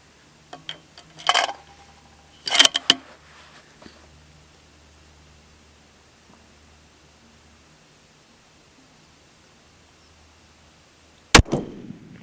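A long-range rifle shot fired at a 1,000-yard target during a precision shooting challenge, heard as a single sharp, loud crack near the end after a quiet stretch, with a few fainter knocks and thumps earlier.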